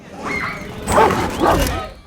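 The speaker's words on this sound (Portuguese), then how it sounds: "colocar uns efeitos sonoros de cachorro latindo" A few sharp dog barks and yips used as a sound effect in a horror film, close and fairly loud, over a muffled background murmur.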